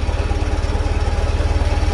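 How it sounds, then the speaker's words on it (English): Tractor engine running after a jump start from a GOOLOO GT4000S booster, a steady, loud, close idle with a fast regular low thump and no voices. "Tractor's running."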